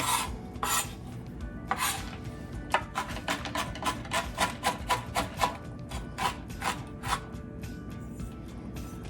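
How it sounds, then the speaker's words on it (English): A knife chops peanuts into pieces on a cutting surface, making a quick run of rhythmic, close, crisp taps and scrapes over faint background music. "We just kind of want to control where the peanuts are by controlling where the knife is."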